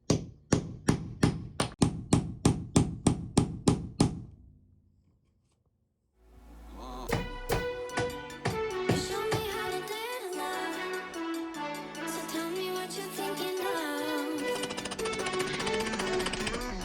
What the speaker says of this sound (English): So we looked up a technique called blind nailing.